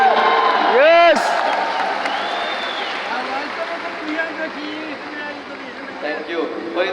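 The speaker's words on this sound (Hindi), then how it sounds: "एक बार आपके लिए भी ताली।" A large audience at a company anniversary gathering in Delhi claps and cheers, opening with a sharp whoop, then settling into a steady crowd wash of applause.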